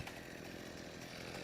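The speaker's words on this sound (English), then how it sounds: "It's a chainsaw." Chainsaw engine from the 2022 Texas Chainsaw game, a steady, loud, unbroken roar running the whole moment with no pause.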